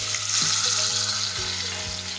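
Green chilies, chopped onion and tomato sauté in a pan with cumin, a steady close sizzle of frying throughout, with a few soft stirring scrapes and no voices.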